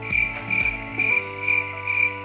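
Crickets chirp in steady, evenly spaced bursts of shrill trilling, about five pulses in a couple of seconds, set over a low ambient bed with no voices.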